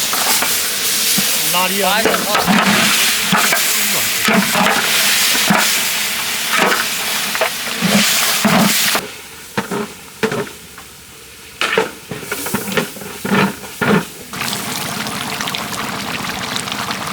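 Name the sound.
beef cooking in large pot with spices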